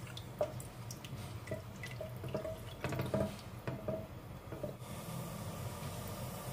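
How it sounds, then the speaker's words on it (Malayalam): Water in a pot starts to boil for biryani rice, giving scattered faint pops and drips over a low bubbling hiss, quiet and close, with no talk. "വെള്ളം തിളയ്ക്കാൻ തുടങ്ങിയിട്ടുണ്ട്."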